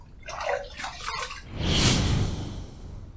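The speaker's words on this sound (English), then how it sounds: "Let's rinse." Water splashing and running as a Page razor by Rex Supply is rinsed after a third shaving pass, a brief close splash followed by a louder swell of flowing water that fades.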